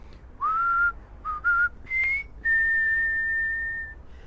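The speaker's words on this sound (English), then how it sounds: "My whistle was quite good today" A person whistles a short tune alone: a few rising notes, then a long held tone, clear and close.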